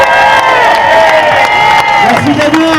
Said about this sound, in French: Merci à vous, applaudissements.